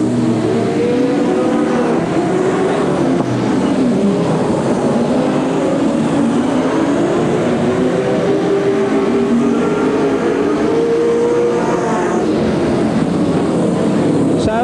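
Race cars roar down the main straight in a continuous loud engine drone, pitch rising and falling as they pass, with a commentator talking over it throughout.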